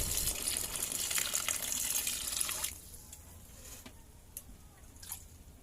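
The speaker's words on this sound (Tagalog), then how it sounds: "Lalagay lang tayo ng konting tubig" Water poured into a pot of sautéed dish to make a broth: a steady splashing rush for nearly three seconds, then stopping, followed by a few faint drips and small clinks.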